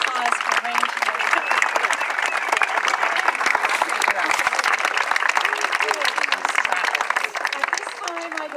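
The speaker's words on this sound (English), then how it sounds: "I think you just deserve such a wonderful round of applause for arranging it" Sustained enthusiastic applause from a crowd at a hobo gathering honouring its committee, dense continuous clapping lasting several seconds, loud and close, with a few voices mixed in.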